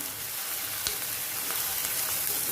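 Chopped onion sautéing in a pan for a mushi (shark) fish masala, giving a steady, dense, close sizzle and crackle that runs without a break throughout.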